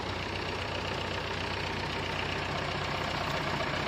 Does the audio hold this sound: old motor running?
yes